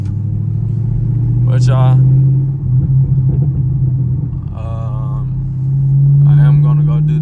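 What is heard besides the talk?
Chevrolet Camaro SS engine while driving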